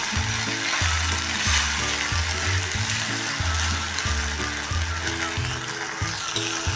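Tomato masala sautéing in oil in a pan for a spiced cluster bean curry, a steady soft sizzle that runs throughout beneath louder background music.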